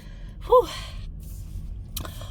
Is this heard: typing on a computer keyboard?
no